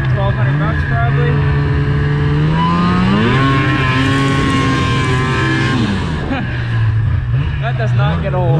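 Used older snowmobile revving, a loud close engine whine that climbs and falls in pitch through several throttle blips, with a rise in the middle and a drop near the end.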